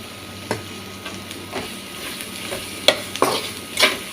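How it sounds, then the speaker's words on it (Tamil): Oil sizzles steadily as ivy gourd sautés with turmeric, with intermittent scraping and stirring clicks of a utensil against a pan, close by, no voices. "நல்லா எண்ணெயில தான் வதக்கணும்."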